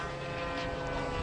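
An OS FX .61 glow engine, muffled, drives a 60-size model airplane with a loud, continuous high-pitched buzzing drone, steady throughout.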